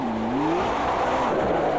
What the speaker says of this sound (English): very slippery on the exit there. Lots of slipping around, under accelerating there